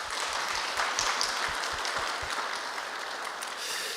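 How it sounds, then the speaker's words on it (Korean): A church congregation claps in encouragement at a worship department dedication service: dense, steady applause from many hands, filling the room evenly for several seconds with no voices over it. "우리 격려의 박수 한번 드릴까요?"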